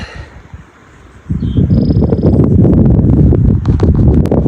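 Loud, steady mountain wind buffets the microphone with a low roar, starting quieter then surging after a second into a constant rumbling gust.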